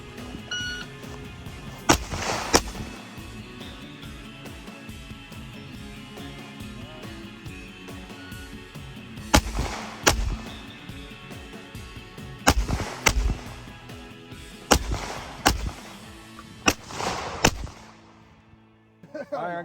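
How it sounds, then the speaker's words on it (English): Glock pistol fired in controlled pairs of shots at an outdoor range, sharp loud reports coming in spaced doubles and triples amid faint background voices and ambient noise. "So what we're doing is just a controlled pair. Do 2 rounds as accurately as possible."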